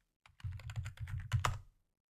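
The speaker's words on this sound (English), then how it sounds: "Typing and speaking at the same time." Rapid clicking of keys on a computer keyboard, close and steady for about a second and a half, with no voices over it.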